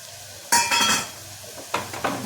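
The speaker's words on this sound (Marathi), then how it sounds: "छानपैकी परतवून घ्यायचं" Red chilli powder, garam masala and coriander powder being stir-fried in a pan, with two bursts of scraping and sizzling as the spoon moves, separated by a quieter pause.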